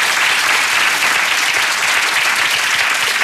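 Loud, continuous applause from a television talk show studio audience fills the whole stretch, thick and steady with no pauses.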